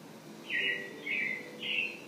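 Three short, high robin chirps, evenly spaced over a faint background hum, fairly close and clear, from a Lego model of the Carousel of Progress.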